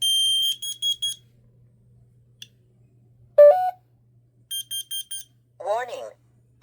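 A combined smoke and carbon monoxide alarm sounds during a system test: loud bursts of rapid high beeps, separated by quiet gaps, with a recorded voice from the unit announcing warnings between them.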